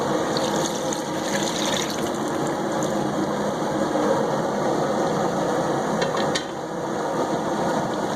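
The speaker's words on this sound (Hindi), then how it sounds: "तो हम इसमें शामिल करेंगे ये वाला पानी जिसमें इन्हें हमने पकाया था।" Water in which beef paya was boiled is poured into the cooking pot, giving a loud, steady rushing and bubbling wash that runs almost unbroken, with a brief dip near the end.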